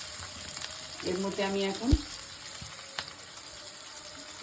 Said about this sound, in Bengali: এবার আমি পেঁয়াজগুলো ভাজছি